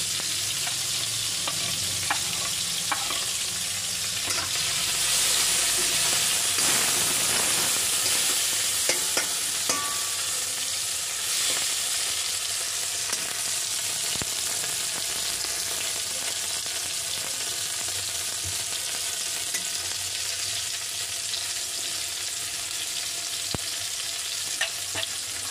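Green chillies fry and get stirred in a pan for a vegetable dish, giving a steady, close sizzle with scraping stir strokes throughout and no talking.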